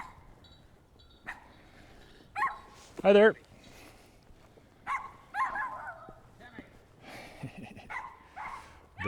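A little Yorkie left behind at a building in Townsend, Montana barks in a few sharp, scattered yips amid outdoor street ambience, with a voice speaking briefly.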